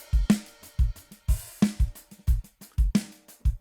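Dry drum kit from the DS Drum RCS Essentials plug-in on a mahogany setting with no effects, playing a steady beat of punchy kicks and snappy snares with hi-hats, close and alone.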